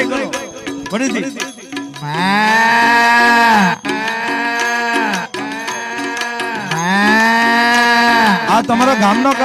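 At a folk dayro stage show, a performer vocally imitates calves and cows with several loud, drawn-out moos and short calls between them, close on the microphone.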